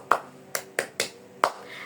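Five sharp hand claps from a classroom tepuk semangat clapping game, a short irregular rhythm of crisp, close slaps with brief gaps, no voices over them.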